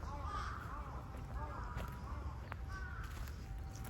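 Crows caw a few times from a bird sanctuary in Yoyogi Park, fairly distant and soft over a low steady outdoor hum.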